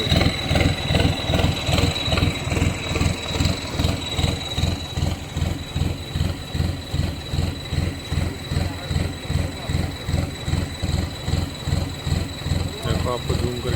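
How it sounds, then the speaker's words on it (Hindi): A tractor engine runs steadily near a tall sugarcane field during spraying, with a loud, even chugging pulse throughout and someone talking over it. "ये अपना ट्रैक्टर है।"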